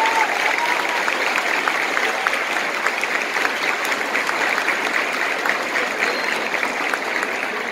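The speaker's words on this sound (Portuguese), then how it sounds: "Uma salva de palmas para todos." A conference audience at an event for women lawyers gives a warm round of applause, a loud, dense and continuous clapping that holds steady for several seconds and fades slightly at the end.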